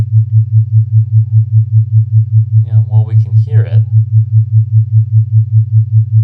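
A steady low sine wave tone pulses in an even, rapid wobble throughout, with a brief stretch of talking over it midway.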